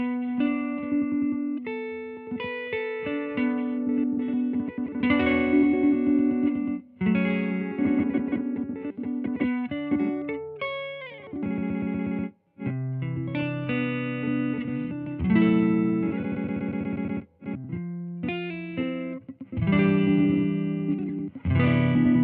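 Guitar played through an effects pedal set to a saved glitch-mode preset on a post-rock/experimental pedalboard, giving choppy, stuttering distorted notes with pitch jumps and abrupt cuts, playing alone without talk.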